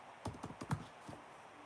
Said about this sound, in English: I'm typing one now